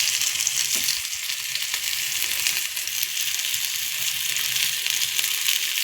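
Stuffed bitter gourds fry in hot oil, a dense, steady sizzle and crackle close by with faint occasional stirring sounds, continuous throughout.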